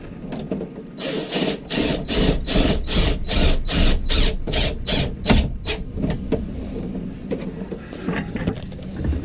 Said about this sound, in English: I'll put the screw on the drill bit this time.